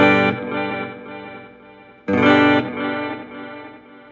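An electric guitar played through an M-VAVE Elemental pedal with its delay effect, two struck chords ringing out, each one trailing off into repeating, fading echoes, with no talking.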